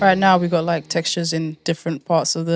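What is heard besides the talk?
None of the usual background noises is heard.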